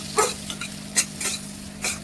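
Chopped tomato going into spiced masala for Bengali chicken kosha, with soft frying sizzle and a few scraping stirs of a spoon in the pan, close and quiet, no talk.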